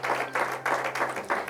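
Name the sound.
applause for the Lord in church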